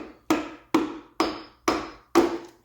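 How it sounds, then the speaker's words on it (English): A hammer taps a piston down into the cylinder of a 2012 Volvo S60 engine: five sharp, evenly spaced metallic blows about half a second apart, each ringing briefly, close and without talk. "So basically I'm just letting the hammer drop on it, and the fast, sharp blows help the ring get past the transition"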